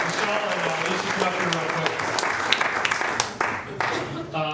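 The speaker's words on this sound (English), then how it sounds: "How about a big round of applause for Josh," A crowd at a celebration-of-life gathering breaks into loud, sustained applause for Josh, Michelle and Alicia, with voices talking and calling out underneath the steady clapping.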